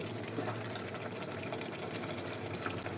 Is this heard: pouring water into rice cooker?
yes